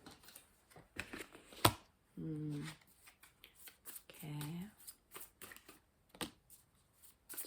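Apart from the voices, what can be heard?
tarot cards being shuffled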